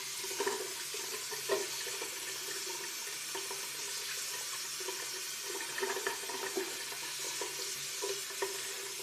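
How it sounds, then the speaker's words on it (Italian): Running water from a tap splashes into a sink at low level while a shaving razor is rinsed under it, with a steady hiss of flow broken by small irregular splashes and clinks. "Lo risciacquo."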